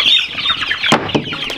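Cornish cross chickens being moved outside, clucking and squawking nearby with a burst of wing flapping partway through, busy and fairly loud with no talk.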